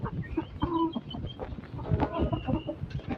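Hens clucking nearby in a backyard coop, several short irregular clucks and calls overlapping, fairly faint with some low background noise.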